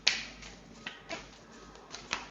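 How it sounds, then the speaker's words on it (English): Tarot cards being shuffled, heard as a string of sharp, crisp snaps and flicks at irregular intervals, fairly close and quiet, with no voices. "I have to shuffle again"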